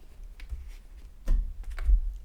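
A shuffled deck of tarot cards is cut at a desk, giving a soft shuffle and then two sharper papery slaps as the stack is split and set down, close and fairly quiet.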